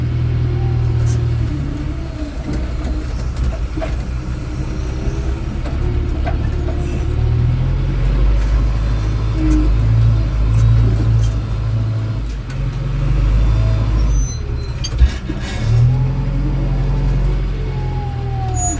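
A JCB loader works near a tractor trolley, loading soil: a steady, loud low diesel rumble runs throughout, with engine surges and faint clanks, and no talk over it.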